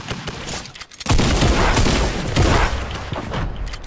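Loud, rapid video game gunfire erupts after a brief quieter moment and continues in dense bursts of overlapping shots and booms until the end.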